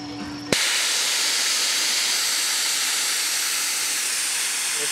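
Compressed air from a shop air compressor tank hisses out loudly and steadily as the tank is drained, a sudden broadband rush starting half a second in and holding constant to the end.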